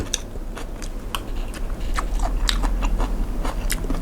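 Crunchy chewing and biting of Thai spicy crab salad made with raw pickled crab, a steady run of crisp bites and mastication close up, with no talking.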